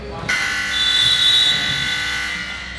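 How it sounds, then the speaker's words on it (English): A loud, sustained electronic basketball game buzzer blares for about two and a half seconds at the end of the first half, a harsh steady tone starting abruptly. "The buzzer sounds, and the first half comes to a close."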